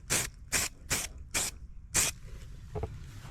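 Primer sprayed from an aerosol can onto a car wheel arch in short, loud hissing bursts, about five in quick succession with a fainter sixth after a pause, close up and with no talking.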